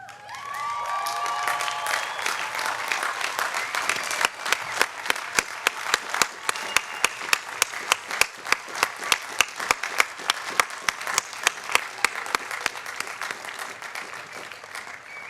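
Large crowd of graduates applauding at the 2012 Ithaca College commencement, a dense, sustained wash of clapping that builds and then settles into sharp, distinct claps, with some cheering near the start.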